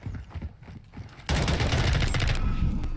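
Rapid burst-fire gunfire in Call of Duty: Modern Warfare 2 multiplayer, loud dense volleys that start suddenly after quieter clattering footsteps and continue to the end.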